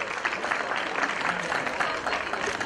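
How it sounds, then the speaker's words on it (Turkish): A crowd applauds steadily and warmly at a cooking contest award ceremony during Turkish Cuisine Week in Siirt, honouring the dessert category winner, while a voice speaks faintly under the clapping. "Kuvvetli alkışlarla bu tabloyla"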